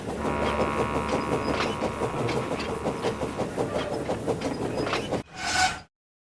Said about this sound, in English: Donald came clattering in with a goods train